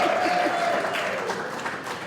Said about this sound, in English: as you can tell by all the cheering